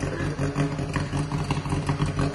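Chevrolet Chevette with an upgraded exhaust running close by, a steady loud throbbing engine and exhaust rumble with rattly clatter that holds even for a couple of seconds.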